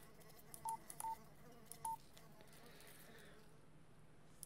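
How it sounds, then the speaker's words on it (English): Three short telephone keypad tones punch out a number in a horror video game, crisp and evenly spaced over a low droning ambient hum. "I've got another phone to call."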